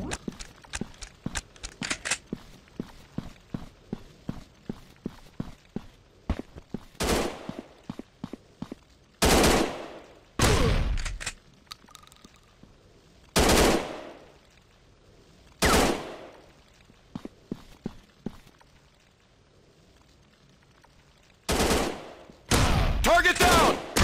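Gunfire from the FPS mobile game Gun Strike Shooting 3D: a rapid burst of close, sharp shots at the start, then loud single shots every few seconds with quiet gaps between them.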